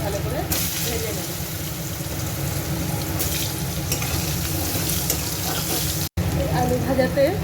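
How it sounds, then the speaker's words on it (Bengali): Potatoes frying in hot oil with dried red chillies and bay leaves in a home kitchen, a continuous dense sizzle with occasional stirring, while a person talks over it. "গরম তেলে আলুগুলো দিয়ে এবার আমি আলুগুলো ভালো করে ভেজে নেব"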